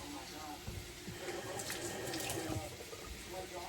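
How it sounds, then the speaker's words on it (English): Tap water runs steadily into a kitchen sink as fingers smeared with egg yolk are rinsed, a continuous close splashing rush lasting a few seconds. "Let me rinse my fingers off."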